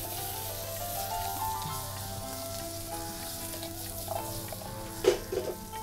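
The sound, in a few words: boiled vegetables being stirred and fried in butter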